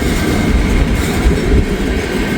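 A freight train with a tank car rolls past close by, a loud, continuous rumble with a faint rhythmic clatter of wheels over the rails, with no voices.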